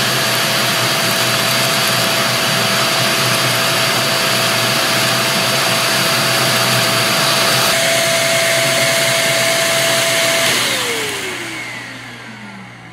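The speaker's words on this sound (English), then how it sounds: "the Greenote corded stick vacuum works fantastic" Greenote corded stick vacuum cleaner running, a loud steady whine and airflow roar that holds constant before the motor spins down and fades at the end.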